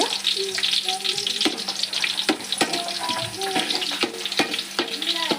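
Green chillies fry in a little oil while chunmuri is being made, a steady close sizzle broken by sharp spoon taps and stirring clatter, with a voice speaking now and then.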